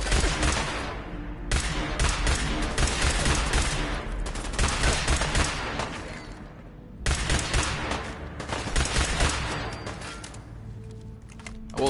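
Rapid pistol fire in the Fallout 4 video game, with dense bursts of sharp, crackling shots in two long volleys separated by a brief pause, loud and close, no voices.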